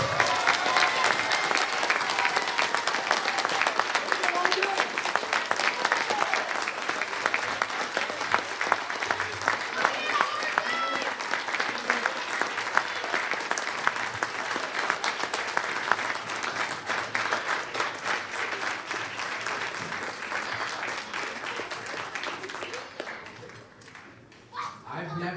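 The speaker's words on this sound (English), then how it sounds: "please join me with a big round of applause" Audience at a Boy of the Year award ceremony breaks into sustained applause, dense steady clapping that holds strong for most of the stretch before thinning out near the end.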